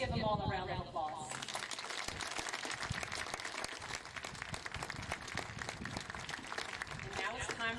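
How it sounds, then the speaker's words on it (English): Graduation ceremony crowd at Col. Zadok Magruder High School breaks into dense, sustained applause for the graduates, with a voice speaking briefly at the start and end. "Let's give them all a round of applause."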